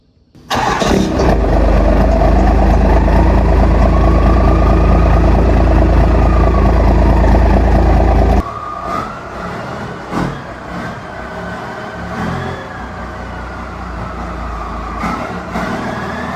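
A first-generation pickup truck's engine roars loudly and steadily for several seconds while backing into a garage, then drops abruptly to a quieter idle with occasional clunks and shifts.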